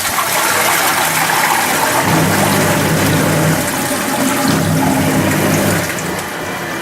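A newly installed toilet flushes with a loud, steady rush of water close by, the gush easing slightly toward the end, with no voices.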